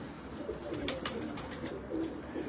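Yakki pigeons coo in soft, rolling, repeated calls close by, with a few sharper flutters or clicks over the continuous low murmur.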